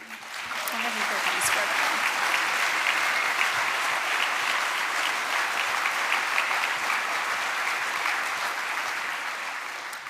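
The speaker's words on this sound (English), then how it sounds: "please stand so we can give you a round of applause" Full, even applause from a luncheon audience honoring a staff team, many hands clapping continuously for about ten seconds with light murmuring underneath.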